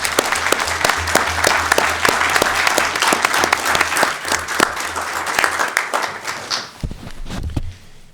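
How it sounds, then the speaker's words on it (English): A room full of people at a Sacramento city council meeting claps loudly and steadily for about seven seconds, then the applause fades out and a few scattered sounds follow. "give them another big round of applause"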